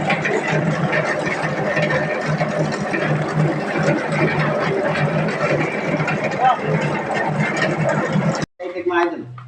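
Feed grinder grinding duck feed on a farm, a dense, steady mechanical whir and rattle running continuously before stopping abruptly near the end, with a brief burst of noise afterward.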